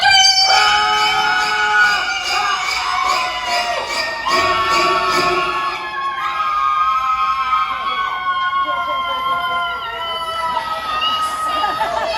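A theater audience at the Universal Studios Hollywood special effects show screams together on cue, a loud sustained crowd roar of overlapping shrieks and shouts that fills the room and gradually thins.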